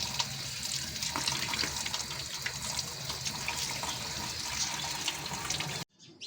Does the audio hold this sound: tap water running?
yes